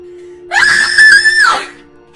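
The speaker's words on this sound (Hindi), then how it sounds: "दिल्ली के कुलीन डिफेंस कॉलोनी के बीचों बीच एक खौफनाक चीख ने रात के सन्नाटे" A woman's terrifying scream cuts through the night in an upscale residential colony, one loud, sustained, high-pitched shriek lasting about a second before trailing off into a low background hum.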